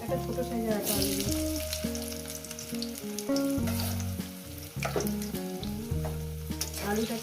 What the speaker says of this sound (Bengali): আলুটাকে আমি 2-3 মিনিট ভেজে নেব।